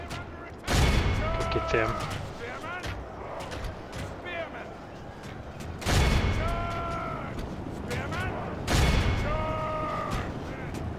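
Gunfire bursts in the medieval strategy game Medieval 2 Total War: three loud, sharp volleys with a short ringing tail, spaced several seconds apart, while someone talks between them.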